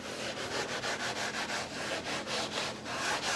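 Sawdust is rubbed briskly back and forth over glue on reclaimed wood, a close, steady gritty scrubbing in quick regular strokes without any voices.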